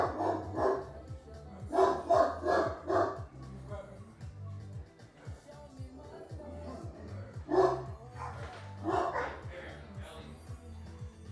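Pet dogs bark in short loud clusters indoors, several yips and bow-wows in quick bursts separated by pauses, with a low hum underneath and a person talking over them.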